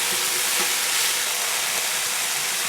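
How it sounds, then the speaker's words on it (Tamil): Chopped banana flower frying in hot oil in a home kitchen pan, a steady loud sizzling hiss that holds without pause, with no talk. "இப்போ வாழைப்பூ நல்லா ஃப்ரை ஆகிடுச்சு"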